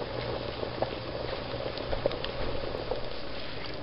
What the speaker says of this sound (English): it's been simmering for about good 15-20 minutes